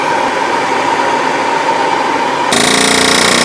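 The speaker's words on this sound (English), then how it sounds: "hit it with an air hammer to see if I can get it to move" Air hammer pounding on a seized part of a Mustang 2V engine, a dense rapid rattling hammering that runs steadily, then grows harsher and louder near the end.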